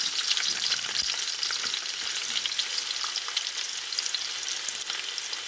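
Chopped onions sizzle steadily in hot coconut oil in a pan for mutton biryani, a close, continuous crackling hiss that holds evenly from start to finish with no voices.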